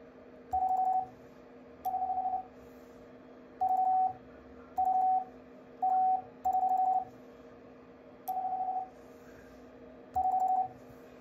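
Short bursts of a steady electronic tone key on and off in groups as a DL 151RA telegraph bug sends Morse code at about 30 words a minute over a faint hum.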